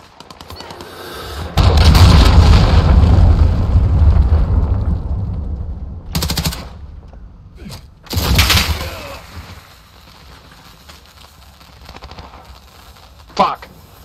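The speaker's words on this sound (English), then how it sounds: "Enemy cruise missile incoming." Call of Duty Modern Warfare gameplay brings a loud rumbling blast from a cruise missile strike followed by sharp bursts of gunfire, close and heavy, then quieter scattered shots, with a player talking over parts of it.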